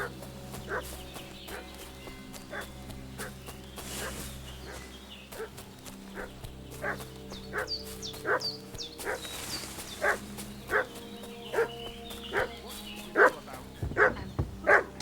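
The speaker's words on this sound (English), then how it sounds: "What's that dog making such a fuss about?" A dog barks repeatedly in a medieval village in the video game Kingdom Come Deliverance 2, sharp barks growing louder and more frequent toward the end over a steady ambient backdrop, with no talking.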